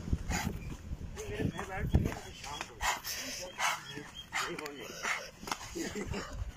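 A bulldog barks several times in quick bursts while people shout and talk over it, the barks sharp and fairly close.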